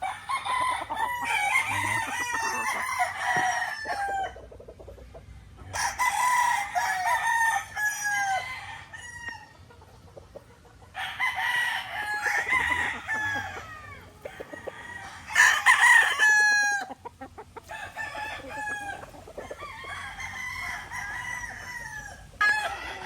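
A Raptor Sweater gamefowl rooster crows repeatedly and loudly at close range in a breeding setup, several long cock-a-doodle-doo calls with clucking and other birds in the background.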